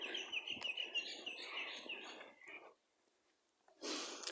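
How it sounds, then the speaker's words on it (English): An outdoor bird call identified as a magpie carries from mid-distance during a bush walk, a burst of warbling, chortling notes over rustling background noise, then a pause before another short noisy call. "I think that's a crow. Oh no, it's a magpie."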